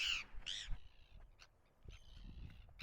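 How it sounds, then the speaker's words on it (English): Crows caw outdoors among rocky northern Canadian terrain near Yellowknife, two sharp, fairly close calls at the start followed by fainter scattered cries and rustling ambience. "Alright, here are the birds."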